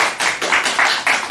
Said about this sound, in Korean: 어머니들께서 격려의 박수를 한번 해주시면